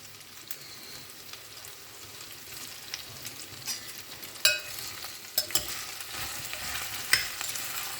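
Green beans sauté in a pan for a vegetable sothi, making a soft, steady sizzle with occasional louder scrapes and knocks of a spoon toward the end. No voices are heard.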